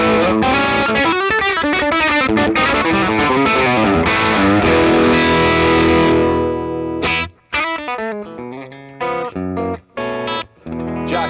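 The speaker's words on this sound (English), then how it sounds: "only a Tele does this sound" A Fender Telecaster electric guitar, played through neck and bridge pickups together, rings out loud with overdriven, effects-laden notes and chords, first in a dense sustained run, then in choppy stabs separated by short silences.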